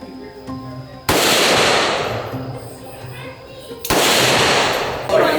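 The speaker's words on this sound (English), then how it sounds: "They're at the point of the tour where they actually let you shoot an M60, M16, or an AK-47." Two heavy, loud blasts of automatic gunfire from an M60, M16 or AK-47 ring out at a shooting range in Vietnam, each a sharp onset trailing into a rough echoing roar, with a faint voice in between.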